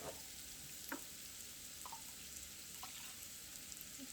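Cream sherry hits a hot pan to deglaze it while making a mushroom sauce for tenderloin, giving a steady, soft, continuous sizzle with a few faint clicks, heard alone and fairly quiet.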